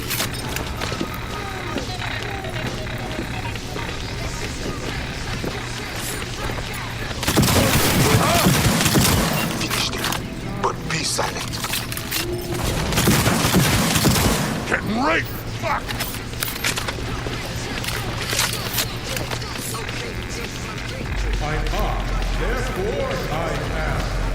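Gunfire in the video game Cyberpunk 2077 comes in two loud rapid bursts of automatic shots over a busy combat soundscape of footsteps and thuds, with game characters shouting throughout.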